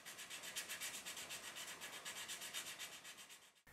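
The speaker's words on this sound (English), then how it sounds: "Then I'll clean up the cuts with a flat file followed by some sandpaper." Sandpaper rubbing back and forth over freshly cut walkways on an N scale 2-6-0 model locomotive, a quiet, close, steady rasping rhythm of quick strokes.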